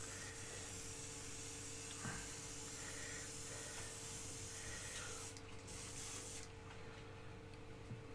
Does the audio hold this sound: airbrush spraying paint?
yes